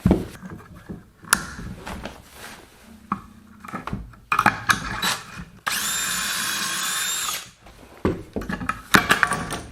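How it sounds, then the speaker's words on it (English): A power drill whirs in one sustained burst of a few seconds while building a shelf from basic lumber, surrounded by scattered knocks and handling clatter from nearby work. "Drill, where's my drill? I found my drill."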